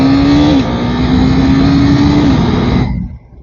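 A KTM RC 390 motorcycle accelerates hard, its loud, close engine note climbing steadily with a brief dip at a gear change, then rising again before cutting off abruptly near the end.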